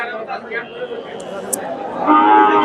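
A Friesian heifer lows at a busy rural cattle market, the moo rising under a steady background of crowd chatter and voices, with a louder, fuller call near the end.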